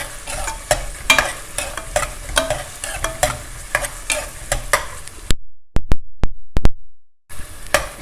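Ginger garlic paste and green chilies sautéing in a pan for a vegetable pulao, with a steady sizzle under repeated scraping stirs of a spoon, then a brief near-silent gap broken by a few sharp clicks.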